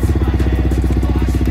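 A Yamaha WR155 motorcycle engine idles close by with a fast, even single-cylinder thump and some mechanical clatter, running steadily throughout.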